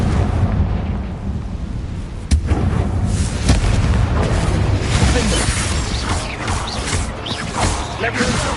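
Heavy booming blasts from the Confringo blasting curse in a Harry Potter video game: a sharp crack followed by rolling, rumbling explosions that stay loud and dense throughout.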